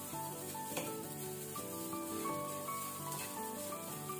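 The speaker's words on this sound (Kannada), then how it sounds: "ಬಿಸಿಯಲ್ಲೇ, ತವ ಬಿಸಿಯಲ್ಲಿ ಇದು ಫ್ರೈ ಆದ್ರೆ ಸಾಕು." Grated coconut fries on a hot tawa with a faint, steady sizzle and occasional soft stirring scrapes, quiet and continuous throughout.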